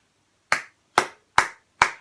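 Four sharp hand claps in a steady, slightly uneven rhythm during an acting workshop exercise, close and loud with brief decays and no talking.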